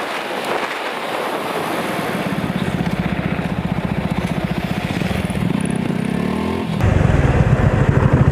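A Yamaha R15 V3 motorcycle rides steadily on a foggy road, its engine putting out a continuous loud pulsing drone with wind rushing across the microphone, and the pitch shifts near the end.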